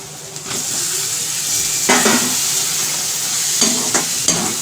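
Tomatoes with Malvani masala and turmeric sizzle steadily in a pan for baigan bharta, a constant frying hiss with a few close scraping stirs of a spoon against the pan.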